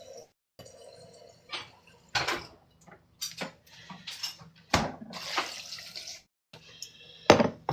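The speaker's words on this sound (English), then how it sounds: "We'll put some water in it too." Tap water runs into a container holding oats in short, uneven bursts of splashing and trickling, with quiet gaps between the pours and no talking.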